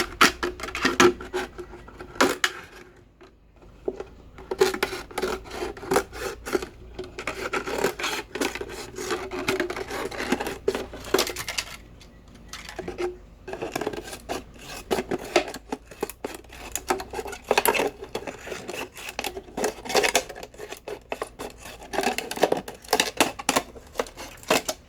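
A plastic PET bottle being cut close up, giving a steady run of dry rasping, crinkling cuts that repeat with short pauses across the whole stretch.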